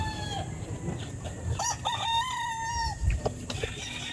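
An imported Gary Gilliam gamefowl rooster crows near the listener, one drawn-out cock-a-doodle-doo over farmyard background with a few short clucks and fowl calls around it.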